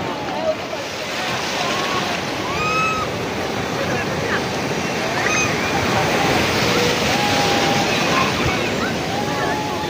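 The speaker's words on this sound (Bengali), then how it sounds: "বিশাল ঢেউ, বিশাল ঢেউ।" Big ocean waves roll in at Puri beach as a continuous broad roar and wash, with crowd voices and shouts rising over the surf.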